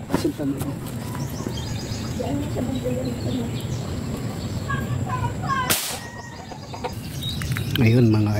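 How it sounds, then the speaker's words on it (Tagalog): Chicken clucks in a rural outdoor setting during airgun fish hunting, brief calls over steady background noise and someone talking, with a louder burst near the end. "May manok."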